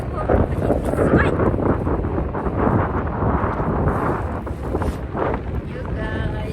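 Strong wind gusts buffet the microphone outdoors in a cold place, roaring and rumbling loudly throughout with uneven swells, while people talk underneath.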